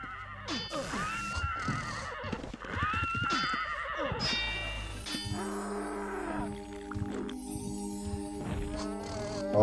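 Horses whinny several times in a video game, the neighs close and clear, with hoof clip-clop, thuds and a steady tonal hum underneath.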